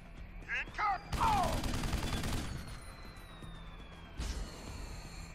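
A turret in Deus Ex Human Revolution opens fire in a short, dense burst of rapid shots, framed by brief electronic chirps and a later thump, with quieter stretches between.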